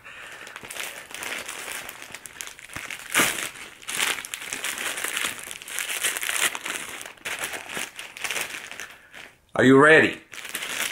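Someone tears open the sealed label on a package of women's wallets, giving a sharp, close ripping rasp near the end that follows a long stretch of crinkling plastic and talk.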